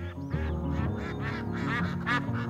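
Cartoon ducks quack in a lively, overlapping chorus, several nasal calls in quick succession over a bed of music.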